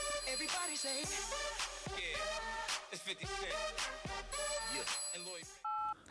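An unanswered phone call rings repeatedly, with a melodic ringtone of bright repeated electronic notes playing on before cutting off near the end.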